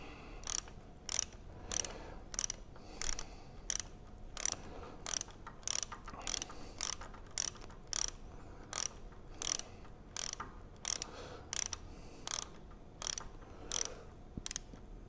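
A ratchet wrench tightens bolts on a Vilter VSS slide valve assembly, giving a long run of crisp, evenly spaced metallic clicks, close and fairly quiet, with no talking.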